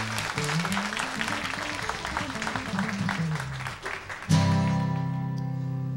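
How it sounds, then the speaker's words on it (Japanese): Audience applause at a performance before a song, a steady crowd clatter with faint voices beneath, cut off when a sustained chord rings out loudly and lingers. "じゃあ拍手を。"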